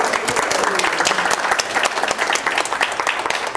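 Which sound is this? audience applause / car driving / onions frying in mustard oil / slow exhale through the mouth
audience applause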